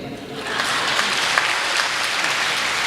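Audience applause at a Hindi comedy poetry gathering (kavi sammelan), a dense steady wash of many hands clapping close and loud throughout, with faint voices mixed in.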